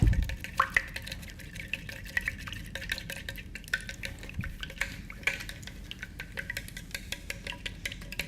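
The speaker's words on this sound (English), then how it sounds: "Some of that mustard now. I just like to get that kind of stirring up." A spoon stirs mustard into a mixture in a kitchen, producing a steady run of soft scraping clicks and light taps, quiet and close, with no talking.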